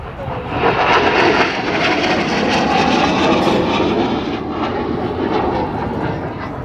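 A McDonnell Douglas AV-8B Harrier II jet makes a fast pass at an air show, its loud, broad engine roar swelling quickly and then holding steady with a rough, rumbling edge.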